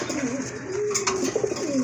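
Pigeons coo in soft, rolling, low bursts, close by, with faint background noise.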